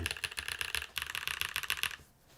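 Rapid, crisp clacking of typing on a newly built mechanical keyboard, a dense run of keystrokes that stops abruptly near the end, close and fairly quiet.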